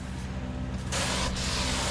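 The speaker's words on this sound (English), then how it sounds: "So this little gravity fed spray gun was all I had" A small gravity-fed spray gun running off an air compressor paints a dinghy, giving a steady close hiss that turns louder and harsher partway through over a low compressor hum.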